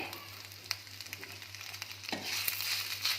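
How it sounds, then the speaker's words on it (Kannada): Grated coconut roasting in a pan, with a soft, continuous crackling sizzle and occasional scraping stir strokes, close and fairly quiet with no talk. "ಅದನ್ನು ಚೆನ್ನಾಗಿ ಹುರ್ಕೋಬೇಕು"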